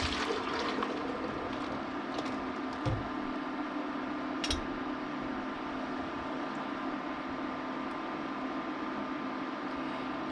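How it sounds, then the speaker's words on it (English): Melted butter poured from a pot into canning jars, a steady soft liquid trickle with light splashing and pouring sounds, close by and continuous, no talking. "Now what we're going to do is we're going to pour it into our jars."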